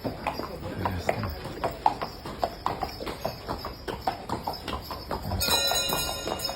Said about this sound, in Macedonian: коњи